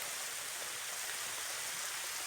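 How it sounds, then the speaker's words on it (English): Light rain falling beside a river while fishing for barbel near Beningbrough Hall, a steady soft hiss of drops and flowing water, even and continuous with no talking. "So, spot of rain, not actually a bad thing."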